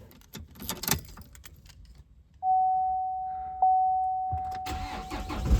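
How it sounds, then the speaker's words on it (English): A 2020 Chevy Colorado ZR2 Duramax diesel pickup cranks and starts up after a transmission shift control repair, rising into a sustained steady tone that holds loud and close, with rustling and handling noises before and after. "start up my truck and see how she does"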